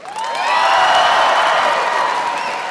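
A comedy club audience claps and cheers loudly, a full swell of applause and whoops that rises quickly and holds steady before easing slightly.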